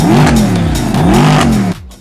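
A Mercedes-AMG SLS with a 6.2-litre V8 revs loudly up close, pitch swelling and falling twice in a deep roar before cutting off abruptly near the end.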